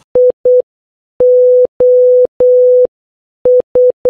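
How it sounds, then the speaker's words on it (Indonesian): Clean electronic beeps in short and long bursts with gaps between them, a loud, steady tone tapping out a code-like rhythm. "sinyal itu diterjemahin jadi kode Morse"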